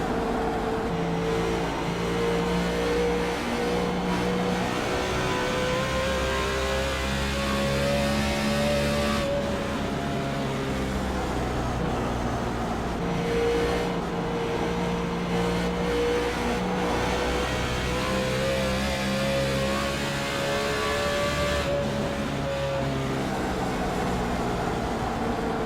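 Race car engine heard on board the leading car at Dover International Raceway during an AMS Wounded Warrior Cup Series race, a loud continuous engine drone whose pitch rises and falls in long sweeps, with no talk.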